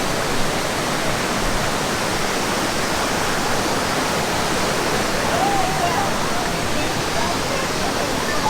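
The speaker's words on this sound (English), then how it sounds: "Gonna spray water on us." Water sprays steadily at a sliding noodle restaurant in Japan, a dense, even hiss that continues without a break, close and loud.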